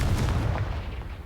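A Confringo fire spell bursts in Hogwarts Legacy, one loud, heavy blast with a deep rumbling body that fades out over about a second.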